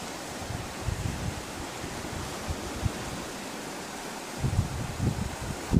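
Waves washing onto the beach at Orchard Bay, a steady broadband surf wash with gentle swells building louder toward the end, mixed with light wind; no voices.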